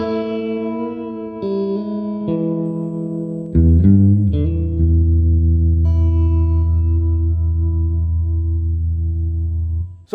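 Clean guitar plays three blues licks with notes left ringing, each phrase sustaining and overlapping, ending in a long held chord; steady, close and alone with no talk.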